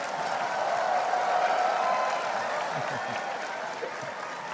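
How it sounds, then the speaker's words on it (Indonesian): Audience applause for Pak Anies at a public discussion about the IKN capital project, a dense, steady wash of many hands clapping that holds loud throughout and eases slightly toward the end. "Agak kenceng nih tepuk tangannya nih."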